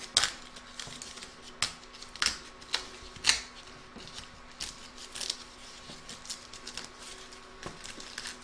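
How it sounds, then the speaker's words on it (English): Embroidery stabilizer being torn away from a stitched koala cuddly toy, heard as a series of short, sharp ripping bursts spaced irregularly across the clip, fairly close and moderately quiet with no talk. "I'm just going to tear this off."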